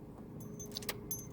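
Keys jangle in a parked truck's ignition as the engine is switched off, with faint light metallic chinks over a low idle hum.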